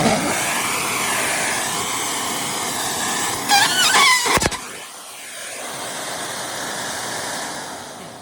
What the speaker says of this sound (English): I'll show you an idea of the suction power of this here.